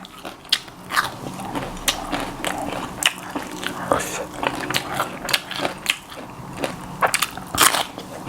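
Close, crisp bites and crunchy chewing of fried salmon papaya salad, repeated in uneven bursts with mouth sounds throughout, and a voice murmuring now and then.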